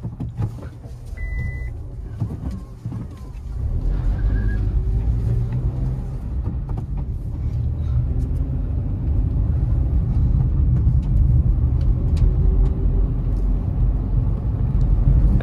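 A Maruti Suzuki WagonR LXi CNG BS6 car is on the move, heard from inside the cabin as a steady low engine and road rumble that grows slightly louder and holds constant.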